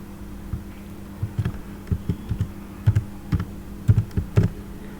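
Keys tapped on a computer keyboard while entering text into an Excel spreadsheet: a scattered run of light clicks, some in quick pairs and small bursts, close and clear over a steady low hum, with no talking.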